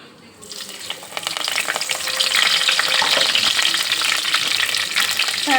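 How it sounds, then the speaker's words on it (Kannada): Mustard seeds spluttering and crackling in hot oil with curry leaves while cooking a mixed sprouted-legume palya, a dense continuous sizzle with rapid pops that swells after a quiet start and stays loud and close, no talking. "ಸಾಸಿವೆ ಸಿಡಿಲಿ"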